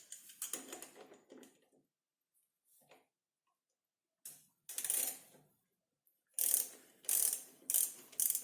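Ratchet with a 6 mm socket working a worn hose clamp on an Opel Omega A engine, sounding in several separate bursts of rapid clicking, close and clear, with quiet pauses between them.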